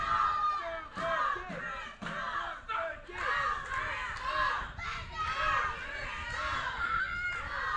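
A wrestling crowd in Newbern cheers and chants for Chris Adams, with rhythmic rising and falling shouts that are loud and near, and a commentator's voice mixed in.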